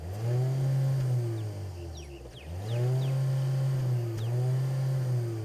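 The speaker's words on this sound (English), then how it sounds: "But you do have real dual exhausts underneath" A deep, rumbling 2024 Chery Omoda 5 GT engine with real dual exhausts revs up and down in a few loud swells, close by, with a brief dip between revs.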